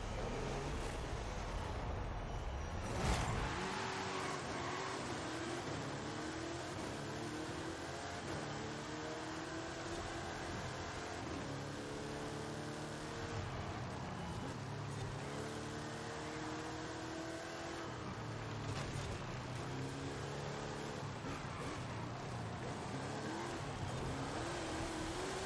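Mercedes-Benz CLK GTR race car engines in a racing video game, a steady droning whine with rising and falling gear-shift sweeps, continuous and fairly quiet throughout with no talk.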